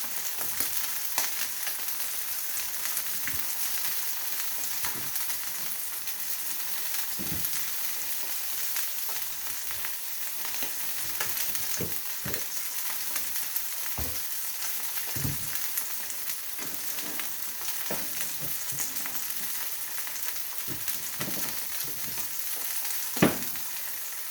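A little melted butter sizzles in a frying pan: a steady close crackling hiss with scattered small pops and spits throughout, no voices.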